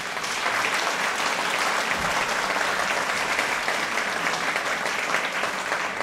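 Steady, dense applause from an audience at a festive ceremony in a Līgatne culture house, sustained and fairly close throughout with no pauses.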